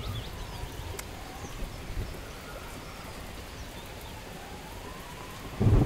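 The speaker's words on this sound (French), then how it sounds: "Et en plus, il pleut maintenant." Rain falls steadily in the video game Lost in Blindness, a soft, even hiss with faint bird calls in the background and a low rumble at the very end.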